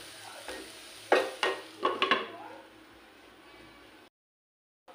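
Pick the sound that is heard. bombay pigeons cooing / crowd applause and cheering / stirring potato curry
stirring potato curry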